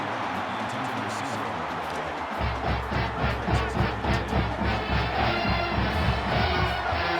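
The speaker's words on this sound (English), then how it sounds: "It's arguably the loudest crowd in the nation, and they are turning it up a notch." Stadium crowd roars loudly in NCAA Football 22 during a 4th-quarter LSU at Alabama game, a dense wash of noise that swells partway through and holds with rhythmic pulsing, no talk over it.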